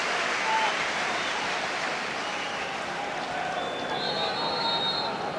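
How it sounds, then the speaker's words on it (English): Steady, dense crowd applause and cheering at a football match, Leeds against Roma in a UEFA Cup tie, greeting a substituted player as he leaves, broad and continuous wash of clapping from the stands throughout. "Deserves that applause."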